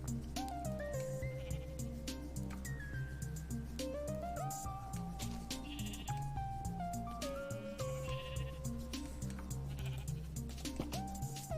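Repeated sheep bleats in Minecraft over steady, tuneful game music with a deep drone, the bleats rising and falling in short calls throughout.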